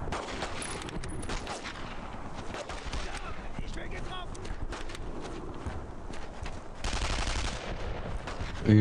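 Gunfire in the World War II shooter Brothers in Arms: Road to Hill 30, dense bursts and rapid shots running continuously with a louder burst near the end, mixed with game noise and faint voices.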